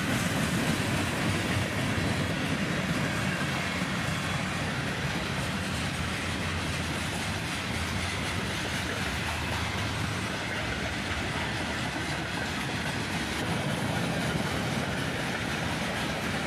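A freight train with gondola cars rolls steadily past, its wheels giving a continuous loud rumble with clickety-clack and faint squeal, no voices.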